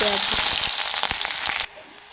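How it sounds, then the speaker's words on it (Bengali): Onions frying in hot oil with dried red chillies, panch phoron spice and a bay leaf, a steady close sizzle with scattered crackles and stirring clicks that drops away abruptly near the end. "পেঁয়াজগুলো ভাজা হয়ে গেছে।"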